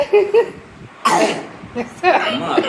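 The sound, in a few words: cough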